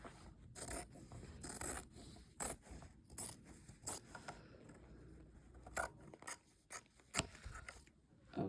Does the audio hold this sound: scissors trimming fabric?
yes